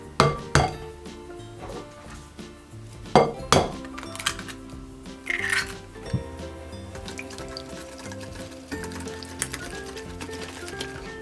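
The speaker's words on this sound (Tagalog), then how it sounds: "Then stir in the eggs." A spoon stirs eggs into blondie batter in a bowl, with repeated clinks and knocks against the bowl over a soft wet mixing sound, irregular and close.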